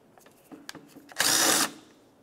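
A power tool briefly spins a bolt out of an AC condenser plug on a 1994-2002 Dodge Ram 2500, a short loud whirring burst under half a second long after a few faint clicks and handling noises.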